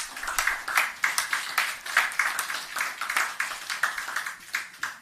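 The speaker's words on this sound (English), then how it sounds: "can we just give him another round of applause?" Steady applause from an audience at a ministry of agriculture briefing on hurricane recovery, many hands clapping in a dense, even patter that lasts the whole stretch.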